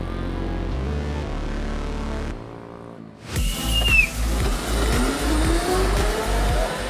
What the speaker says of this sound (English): each kart has to cover 50 meters as quickly as possible and apply the brakes as soon as their kart touches this line